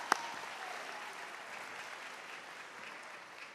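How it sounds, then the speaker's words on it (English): A high school graduation audience applauds after the national anthem, a steady wash of many hands clapping at moderate distance that starts with one sharp nearby clap and holds an even level throughout. "Another round of applause for our national anthem right there."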